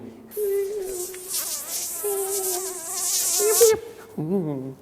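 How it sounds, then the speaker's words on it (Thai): A high, whining mosquito buzz drones steadily up close, wavering in pitch and growing louder before cutting off, followed by a brief closer whine. "ถ้าเป็นยุง"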